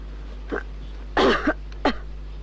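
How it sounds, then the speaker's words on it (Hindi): A few short, harsh coughs close by, three bursts in quick succession against a steady low hum. "फिर खांसी हो रही है"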